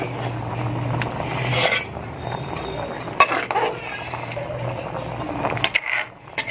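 Eggs go one at a time into a simmering pot of lentils, bringing several clinks and knocks of utensils against cookware amid kitchen clatter, with a voice speaking intermittently.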